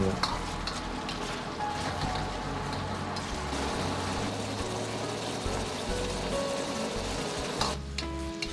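Pork and tofu puffs stirred with a spoon in a pan, a steady close sizzle of frying under repeated scraping and turning strokes, continuous throughout with occasional louder clatters.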